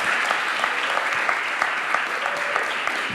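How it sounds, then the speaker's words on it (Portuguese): Audience applause for a presenter at a Brazilian talk event, steady dense clapping throughout, fairly close and loud with no other sound standing out. "Uma salva de palmas para Sandro Augusto, meu grande parceiro."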